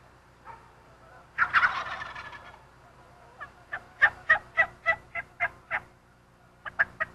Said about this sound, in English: I had them so fired up that they were just gobbling to everything